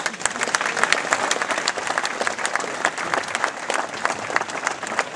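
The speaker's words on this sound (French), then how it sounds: "donc vous pouvez applaudir tout ce beau monde." Sustained applause from an audience at a ski event ceremony, dense steady clapping throughout with some crowd noise and voices mixed in.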